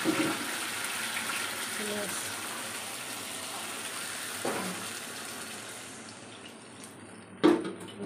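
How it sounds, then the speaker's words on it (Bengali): Water poured into a pan of fried potatoes and spices, a steady rushing gush that fades over several seconds, ending with a sharp clatter, with a voice faintly present underneath. "এবারে এটাকে জল দিয়ে দেবো।"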